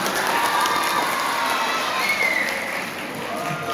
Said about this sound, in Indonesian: Tepuk tangan dulu untuk yang berani bertanya.